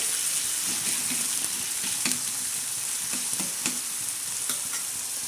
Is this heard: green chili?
yes